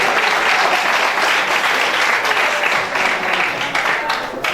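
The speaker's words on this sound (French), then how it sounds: "le repas spirituel d'un artiste, c'est les applaudissements." Wedding reception audience applauding a performer, a dense, loud wash of clapping that holds steady throughout, with a voice faintly audible beneath it.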